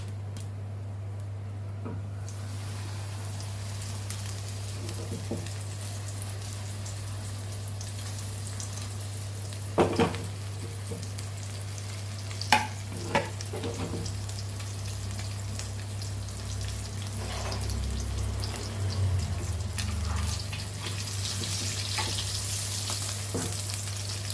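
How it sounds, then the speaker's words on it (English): Pomfret coated in rava frying in hot oil, a dense continuous crackling sizzle close up, with a few sharp pops and a low steady hum underneath, no voices. "Oil is hot and let's fry this."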